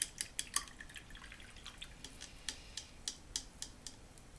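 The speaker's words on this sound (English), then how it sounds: "so to get it translucent, I do need to add a little water" Small, quiet, irregular clicks and ticks as water is added to thin black paint for miniature painting, sounding like a brush tapping and stirring in a palette.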